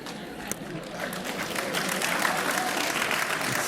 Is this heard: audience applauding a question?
yes